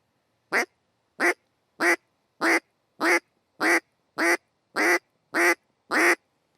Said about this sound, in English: Let's start out by trying to do a simple quack.